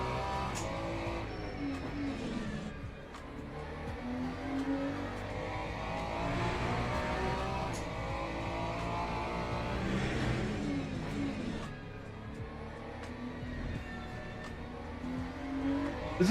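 A race car engine in the Le Mans Ultimate sim racing game drones steadily, its pitch rising and falling through gear changes and accelerations at a consistent moderate loudness, with no voices.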